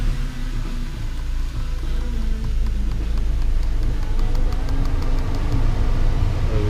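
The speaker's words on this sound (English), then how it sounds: "now I'm gonna actually turn the car on and give it full blast of heat" A 2001 BMW 530i E39 with overheating trouble runs at idle, a steady low engine rumble heard close with some faint rattling and no talk.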